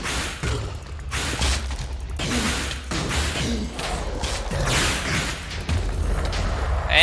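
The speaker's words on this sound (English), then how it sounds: "You're gonna have an explosion around you." In a Minecraft survival game, explosions erupt around the player as a string of loud, dense booms and crashing blasts that fill the whole stretch with few pauses.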